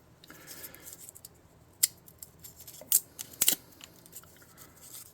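Sheet material being cut with scissors to form corrugated metal for a tabletop terrain air filtration building, giving several sharp, close snips and crunches at irregular intervals over a quiet background.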